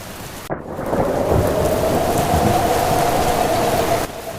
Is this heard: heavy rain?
yes